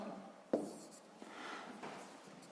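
A pen scratches across paper during a fifth-grade maths exercise, with a sharp tap at the start followed by soft, faint strokes alone in a quiet room.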